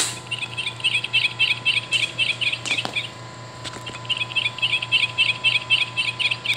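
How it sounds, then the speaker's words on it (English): A yellow-rumped warbler call plays from an Audubon plush bird toy: two runs of quick, high, trilling chirps, close and fairly loud, separated by a brief gap with faint handling noises. "yellow-rumped warbler,"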